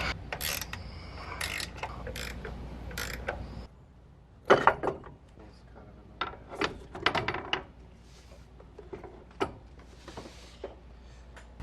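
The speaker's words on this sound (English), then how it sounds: "Just take an 18mm wrench or socket and remove these three top nuts." Ratchet wrench clicking as it removes 18mm top nuts on a 2014-2018 Silverado truck during a lift install, with a busy opening stretch of rapid ratcheting followed by separate bursts of clicks, close and fairly loud.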